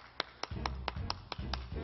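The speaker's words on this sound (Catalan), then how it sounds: "Un fort aplaudiment!" Applause in a small group, about eight sharp, evenly spaced hand claps close by, with a low hum of background chatter beneath.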